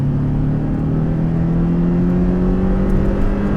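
A Porsche Cayman on a race circuit accelerates hard, its engine note climbing steadily and loudly for several seconds as it pulls through the gear, with no one talking over it.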